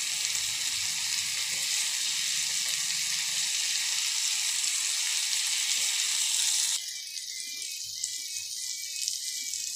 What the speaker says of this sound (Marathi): कांदा थोडासा ब्राऊन होईपर्यंत आपल्याला फ्राय करायचं असतं। यात वाटाणे टाकून घेऊया,